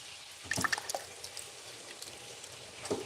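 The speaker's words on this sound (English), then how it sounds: "Probably add a little water to it." Water is poured into homemade teriyaki sauce in a kitchen, a brief splashing trickle with a few drips, fairly close and alone, then a quieter pause and a last small splash.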